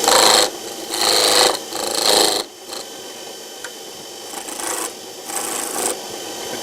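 A skew chisel cuts curly-grained wood on a lathe in loud rasping bursts, several strokes of about a second each with short pauses, then softer, lighter cuts taking small bits.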